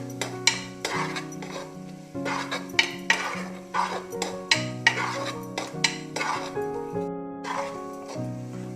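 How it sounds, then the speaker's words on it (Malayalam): A utensil stirs spice powders for kappa biriyani in a pan, giving repeated scraping strokes and metallic clinks in an uneven rhythm over a soft sizzle, close and moderately loud, with a steady tonal hum underneath. "ഇതിൻ്റെ പച്ചമണം പോകുന്നത് വരെ ഒന്ന് ഇളക്കി കൊടുക്കണം."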